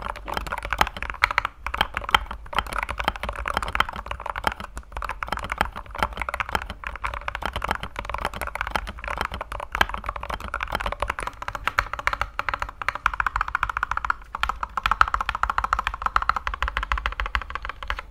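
Steady, rapid typing on a mechanical keyboard with lubed yellow switches, close and clear with soft, even clacks and no voices.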